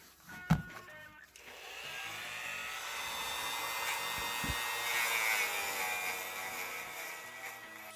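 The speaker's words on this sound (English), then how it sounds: "Just going to grind this out." A rotary tool grinds away hardened epoxy on the back of a custom action figure head, a steady high whine running from about a second in to the end after a couple of sharp knocks.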